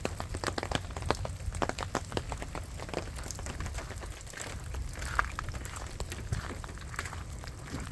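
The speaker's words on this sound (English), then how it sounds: "Nice and dry. Wait out the rain." Steady rain patters on a truck awning at a lake campsite, a dense, even hiss of drops with scattered louder taps throughout, close and continuous, with no one speaking.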